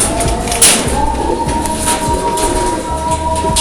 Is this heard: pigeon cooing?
yes